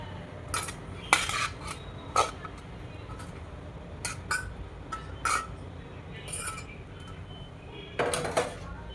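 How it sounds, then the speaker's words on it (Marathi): Boiled raw mango is tipped into spice mix in a pan for methamba, bringing a series of sharp metal clinks and scrapes of a spoon against the pan, spaced irregularly over a faint background hiss. "या मसाल्यामध्ये ह्या उकडलेली ही कैरी घालून घेणार आहे."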